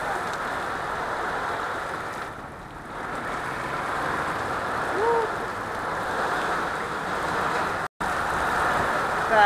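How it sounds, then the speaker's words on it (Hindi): Steady broadband hiss of rain falling, continuous and fairly loud throughout, with a brief dip partway and a short dropout near the end. "जैसा कि आप देख सकते हैं, गंदा वाला बारिश हो रहा है यहाँ पे"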